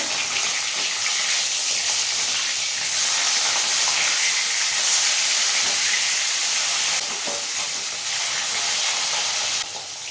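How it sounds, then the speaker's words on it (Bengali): Rohu fish pieces crackle and sizzle steadily in hot oil in a pan, a dense, even hiss that holds close and loud for the whole stretch with no talking. "এইভাবে উল্টে পাল্টে মাছটা খুব ভালো করে ভেজে নেব"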